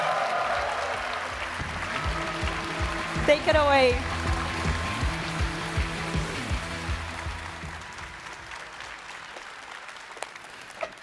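A crowd at the MagicCon Amsterdam preview panel claps and cheers, with a sharp whoop early on, then the applause tapers off while someone speaks into the microphone.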